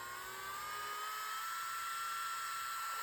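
An electric nail drill whines steadily at close range, its pitch climbing gradually as it steps up through its speeds.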